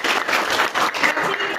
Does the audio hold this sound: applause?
yes